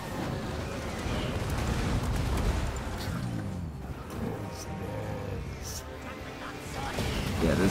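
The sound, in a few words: Hellstorm rocket battery fire and explosions, video game (Total War: Warhammer)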